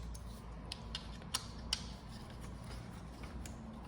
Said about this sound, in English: go ahead and finish tightening them.